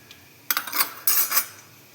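Cutlery clinks against a pot while food is mixed in a kitchen, with two quick clusters of metallic scraping and tapping, close and fairly clear.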